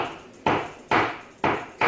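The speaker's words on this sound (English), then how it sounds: "I'm just going to line this up here and I'm just going to give it a little tap." Metal hammer striking wire to flatten it on a hard surface, for a homemade graphene supercapacitor; four sharp, close taps at a steady rhythm, each ringing briefly before the next.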